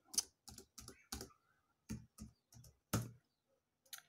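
A number is typed on a computer keyboard in a quiet room: a handful of crisp, separate key clicks in an uneven rhythm, close and clear, with short silences between them.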